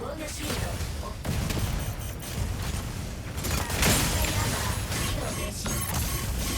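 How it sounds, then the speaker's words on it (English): Sustained barrage of gunfire and explosive impacts pounding a player's mech in the video game Reaper, a dense, loud rumble of rapid hits with metallic mechanism creaks, swelling near the middle and continuing without pause. "Ate another barrage."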